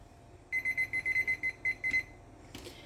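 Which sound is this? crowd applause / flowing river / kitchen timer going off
kitchen timer going off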